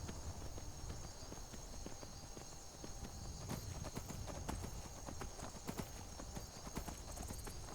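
Horse hooves gallop in a steady, continuous clip-clop rhythm while riding through Skyrim, the video game, with a constant game ambience underneath; no one speaks.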